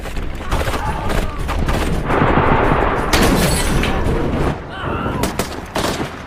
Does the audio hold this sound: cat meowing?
no